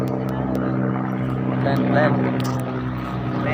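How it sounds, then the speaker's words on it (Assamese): A steady, droning aircraft engine hums throughout with a low tonal whine, rising slightly midway, while people talk nearby. "এইখন প্লেন"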